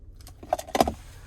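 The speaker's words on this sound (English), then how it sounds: "here is our key fob with remote start" A 2025 Nissan Frontier PRO-4X key fob with remote start jangles briefly on its keys, a short close metallic rattle in two quick bursts against a quiet background.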